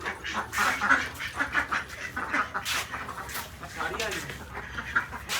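A flock of ducks quacks repeatedly in irregular bursts, some close and loud, others fainter.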